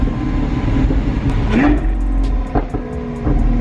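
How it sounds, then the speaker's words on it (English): A Lamborghini engine hums and rumbles steadily from close by, with a brief rising rev in the middle and people talking over it. "You can hear everything. The engine's right there."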